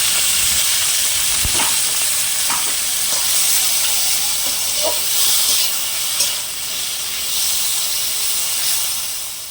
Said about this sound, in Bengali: এবার চিংড়ি মাছগুলোকে একটু ভেজে নেব